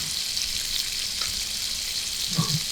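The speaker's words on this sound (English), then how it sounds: "as soon as our bacon finishes cooking" Bacon sizzles steadily in a pan with a soft, even crackle, and a few faint clinks and bumps come near the end, with no talking.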